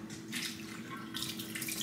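Tap water runs steadily into a container to thaw frozen shrimp, a continuous close splashing hiss with no talking.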